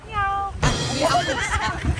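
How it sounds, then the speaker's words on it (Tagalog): A cat meows clearly in a drawn-out, tonal call at the start, then a burst of louder sound follows with people talking and further cat vocalizing mixed in. "Ano to, pusa?"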